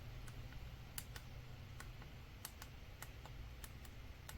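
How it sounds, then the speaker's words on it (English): Sharp small clicks from a newly replaced volume button on a Huawei P30 Pro phone, about a dozen crisp presses in an irregular rhythm, very close and quiet against faint background hum. "Let me see how clicky it is."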